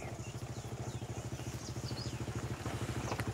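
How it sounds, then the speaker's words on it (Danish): Moped engine straining up steep mountain roads, a steady pulsing putter that stays close and fairly loud throughout, with faint chirps over it. "knallert aser og maser sig op ad de stejle bjergveje"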